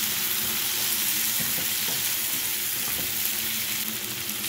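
Tomatoes go into a pan of translucent fried onions, bringing a steady loud sizzle with a few soft stirring knocks throughout.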